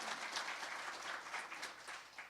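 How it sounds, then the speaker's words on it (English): Audience applause for a panel at a campus event, a steady wash of clapping from a moderate crowd, fairly faint and continuous throughout, no voices. "Let's give our panel a round of applause just for that introduction."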